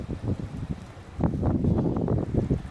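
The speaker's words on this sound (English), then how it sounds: "And it's getting a little windy up here now" Low, gusty wind buffeting the microphone, rumbling in uneven bursts and growing stronger partway through.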